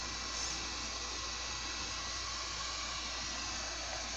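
The air blower of a JCD 8898 hot air soldering station heating up, giving a steady, close, even rushing hiss that holds constant throughout with no talking.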